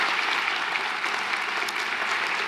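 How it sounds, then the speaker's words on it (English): Dense, steady applause fills a scholarship reception room as the gathered audience claps together in one continuous round. "we would like to have one more round of applause for all of you who are able to join us today"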